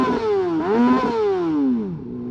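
Another superbike rides nearby, its engine note sweeping up and down in clear revving pitch as it accelerates and eases off, close and fairly loud, alone without speech.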